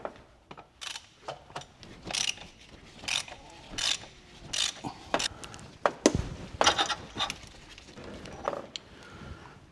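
A ratchet fitted with a 32 mm socket works the oil filter housing on a Ferrari 458 in a series of crisp, close clicking bursts with short pauses between strokes, and no talk.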